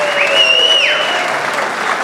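A crowd applauds at the 2024 Derby City Classic one-pocket billiards finals, a steady dense wash of clapping filling the room, with a few whistles and whoops rising above it.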